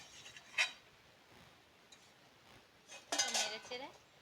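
A spoon stirs rice and water in a cooking pot for mutton biryani, giving two sharp metallic clinks against the pot amid otherwise quiet scraping, the second a short cluster of rattling taps.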